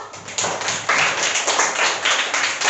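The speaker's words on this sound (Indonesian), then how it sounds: "Tepuk tangan dulu untuk kita semua" Pupils in a classroom clap together after a group presentation in an Islamic religion lesson, a dense, fairly loud burst of hand claps that swells and holds steady for a couple of seconds.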